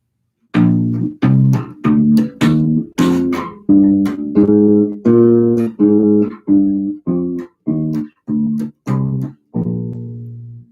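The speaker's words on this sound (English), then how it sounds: "While a major scale with a flattened seventh note sounds like this." A bass plays a major scale with a flattened seventh, about a dozen separate plucked notes in steady succession, clear and close with no talk, the last note left ringing.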